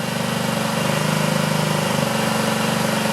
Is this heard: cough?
no